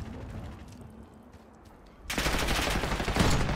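Sniper rifle shots in the video game Black Ops 6, a sudden loud burst of gunfire that cuts in halfway through after a quieter stretch and keeps rumbling close and heavy to the end.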